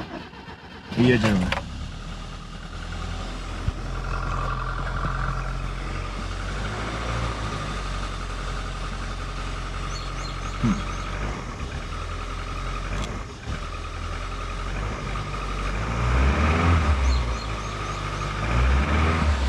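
An FSO Polonez engine, its crankcase breather removed, cranks and catches near the start, then settles into a rough, uneven idle with a few revs, recorded up close while people talk over it.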